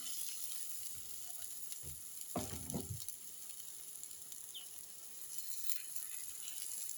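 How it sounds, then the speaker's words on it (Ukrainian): A steady, close sizzling hiss of lazy khachapuri batter frying in a pan, with a brief louder crackle of movement partway through. "Зараз будемо смажити на сковорідці."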